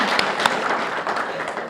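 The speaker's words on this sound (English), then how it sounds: "Clap for the radio people." An audience at a community television award ceremony in Boulder applauds the radio people, dense clapping steady and fairly loud throughout with a couple of sharper claps standing out.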